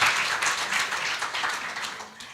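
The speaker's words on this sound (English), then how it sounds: "Can you give me a big round of applause to my team?" Audience applause at the grand finale and prize presentation of a hackathon, a dense, steady patter of many hands clapping that fades slightly toward the end, fairly close and without speech over it.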